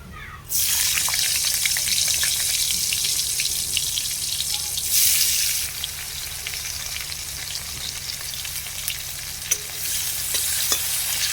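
Chopped onions frying in hot oil with nigella seeds, a loud continuous close sizzle that holds for the full stretch with faint scraping of stirring.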